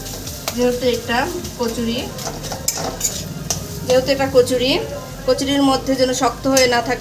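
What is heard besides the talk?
mashing boiled chicken and potato with a spatula tip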